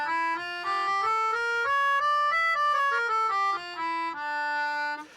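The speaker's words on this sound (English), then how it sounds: "I have a melodica with me so I can play it for you." A melodica plays a harmonic minor scale note by note, rising then descending in clear stepwise tones, reedy and close, with no talk.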